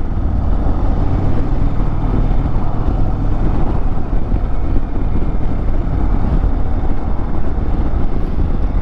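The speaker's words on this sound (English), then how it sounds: "probably hear the difference in the wind now with that windshield down" Steady, loud wind rush and road rumble from riding a 2022 Indian Chieftain Dark Horse motorcycle with its windshield lowered, a continuous buffeting roar with no pauses.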